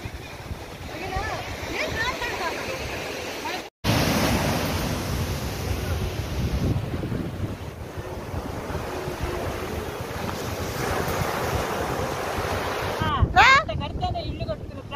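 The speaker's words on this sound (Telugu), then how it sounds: "ఆడ అలలు ఎక్కువైనాయి అక్క." Sea waves breaking at Miramar Beach in Goa, a steady roar of surf mixed with heavy wind buffeting against the microphone, with people talking over it throughout and one brief dropout.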